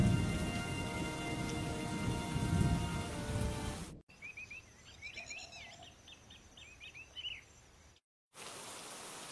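Heavy rain pours steadily at full loudness for four seconds, then cuts to a quieter stretch of birdsong chirps before the dense downpour returns near the end, with no voices.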